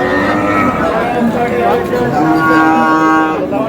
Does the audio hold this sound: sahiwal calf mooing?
yes